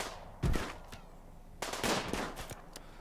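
Gunfire from the colony-building video game Rimworld: two short bursts of synthetic gun sounds, one near the half-second mark and a longer clattering volley later, fairly loud with no talk.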